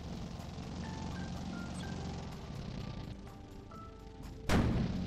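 A tank cannon in Sprocket fires and strikes home with one sudden heavy boom near the end. Before it comes a long stretch of low engine rumble, faint pings and scattered small thuds.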